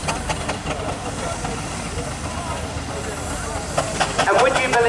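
Full-size steam traction engines with great big wheels race around a country show arena at a steam rally, a steady chuffing, hissing rumble running throughout, with brief mechanical clanks toward the end and a voice talking over it.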